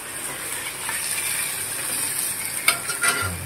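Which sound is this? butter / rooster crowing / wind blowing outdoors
butter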